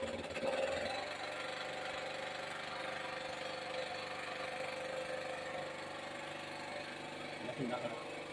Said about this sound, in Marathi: तर आता आम्ही मशीनच्या सहाय्याने करणार आहोत मशीन सुरू झालं